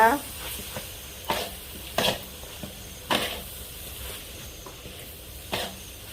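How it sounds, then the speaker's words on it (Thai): Instant noodles and glass noodles being stir-fried in a pan, with repeated scraping and stirring strokes over a soft background sizzle, close and moderately loud, with occasional sharper clatters. "ผัดผัดผัดผัด"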